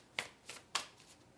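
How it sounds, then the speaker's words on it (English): Tarot cards being shuffled by hand: three crisp riffling bursts about a third of a second apart, close and fairly quiet, with fainter rustles trailing after. "They said keep shuffling."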